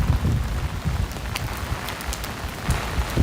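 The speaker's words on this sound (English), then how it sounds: "we're back out into the rain" Steady rain falling on a stormy Monday night in the streets of Williamsburg, Brooklyn, a dense continuous hiss with patters on surfaces and low rumble, close and loud throughout.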